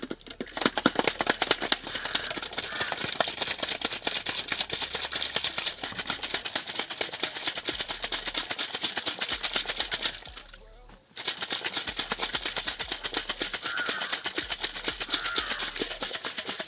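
An egg shaken hard inside a closed container partly filled with water gives a steady, dense rattle and slosh that runs continuously, pausing briefly near the end before resuming.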